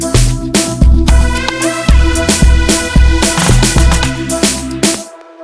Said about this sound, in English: Now to spice the drums a little bit and to introduce the next section, the pre-chorus, I added this drum roll.